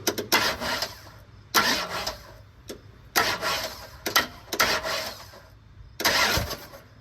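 An engine cranks and fires in repeated short bursts, about six loud starts and stutters separated by brief pauses, close up with no one talking.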